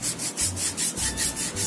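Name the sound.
rubbing foot skin smooth during a pedicure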